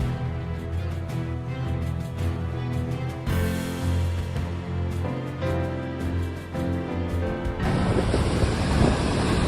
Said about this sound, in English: A large ocean wave crashed into the house, scaring the surrounding people.